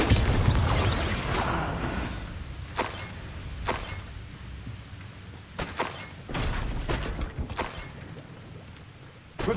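A Confringo blasting spell going off in Hogwarts Legacy: a burst of loud booms and crackling impacts repeating at irregular intervals over a steady rumbling game background.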